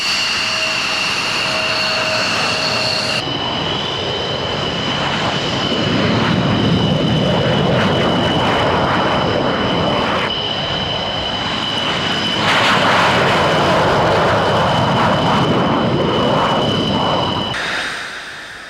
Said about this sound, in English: F-16s from Holland, Belgium and Norway.